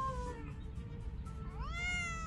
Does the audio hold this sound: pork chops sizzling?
no